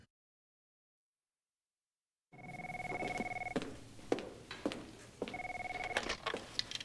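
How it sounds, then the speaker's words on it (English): An office telephone rings after a stretch of silence, with two loud, close electronic bell trills separated by a pause. Sharp clicks and knocks come between the rings. "we first see a woman who only answers the phone because she's tired of listening to it ring"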